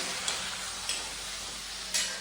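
Steady, close sizzling of bitter gourd frying in a pan, with a few brief clicks of stirring over the constant hiss.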